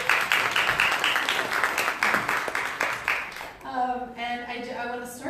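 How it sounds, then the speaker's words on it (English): Theatre audience applauding after a show, dense clapping for about three and a half seconds before it fades and a voice begins speaking. "One more round of applause for everyone."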